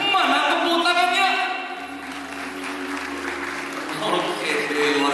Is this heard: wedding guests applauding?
yes